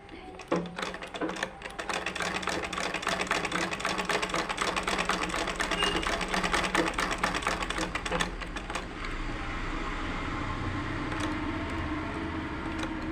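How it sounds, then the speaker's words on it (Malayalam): A sewing machine runs steadily as it stitches fabric along a drawn line in a basic tailoring class, its rapid even clatter lasting several seconds before it drops to a quieter hum. "തിരിച്ചു വെച്ച് ഇനി ഈ വരയിലൂടെ തന്നെ ഇങ്ങോട്ട് അടിച്ചെടുക്കണം"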